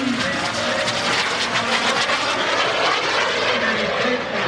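A fully aerobatic mini jet airplane roars overhead at a lakeside airshow, a loud, steady, broadband engine rush that holds level throughout with slight surging.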